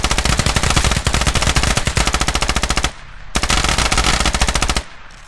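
Enemy machine gun raking insurgents in a close-quarters video game firefight, two long, loud, rapid-fire bursts with a short gap between them, close and relentless, with no voices.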